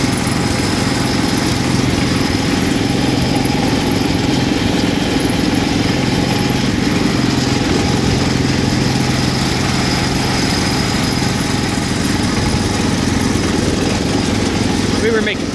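John Deere 316 garden tractor with a Kohler engine running nearby, a steady droning engine idle that continues throughout with no break, with people talking over it at times.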